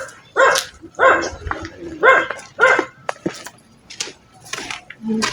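A dog at an abandoned cemetery barks repeatedly in a steady run of loud, close barks, about one each second, with a few softer yips trailing off near the end.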